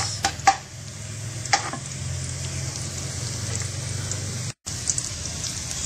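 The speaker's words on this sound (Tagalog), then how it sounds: "Gisa natin yung bawang until medyo brown na" Garlic sautéing in a pan until brown, a constant crackling sizzle with a few sharp taps of a utensil early on and a brief dropout near the end, no talking.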